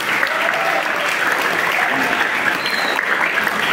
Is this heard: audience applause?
yes